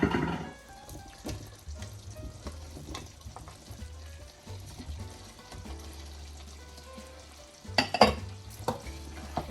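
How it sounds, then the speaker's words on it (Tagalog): Potatoes and carrots tumble into a pot of simmering beef caldereta, a low bubbling and gentle sizzle running throughout with a few stirring clatters and a brighter splash of vegetables landing near the end. "we will add the potatoes and the carrots"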